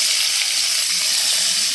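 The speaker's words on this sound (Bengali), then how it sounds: "দিয়ে দিচ্ছি সরষের তেল, দিয়ে দিচ্ছি আলু" Potatoes sizzle in hot mustard oil with a dense, continuous hiss and crackle, steady and close for a short stretch.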